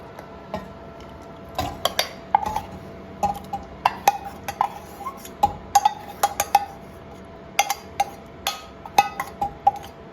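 Tomatoes and green peas stirred together in a pan for a mushroom and pea masala, giving repeated close metal clinks and taps of a spoon against the pan in an irregular rhythm, with no talk.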